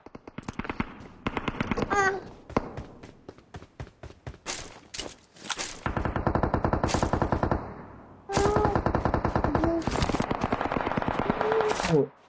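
Rapid SMG fire in PUBG Mobile rattles out in loud, fast bursts, first short and scattered, then long sustained strings of shots, close and dominant throughout.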